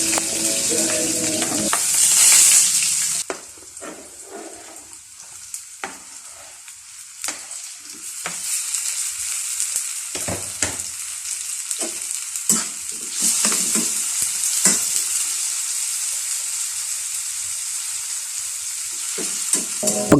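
Sliced onions and tomatoes fry in a pan for a home-cooked lunch, giving a steady close sizzle throughout, with repeated scraping and clinking as a spoon stirs the mixture.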